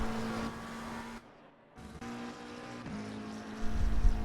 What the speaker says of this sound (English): we go far to the outside whilst being on throttle